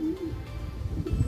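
Pigeons coo close by, with a short, low, rolling call near the start and softer cooing and rustling toward the end.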